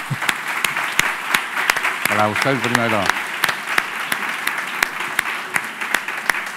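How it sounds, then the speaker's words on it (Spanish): Sustained applause fills a conference hall at an ethics congress, a dense steady wash of many hands with a brief sung or spoken voice rising over it in the middle. "lo que creo que os merecéis es un aplauso"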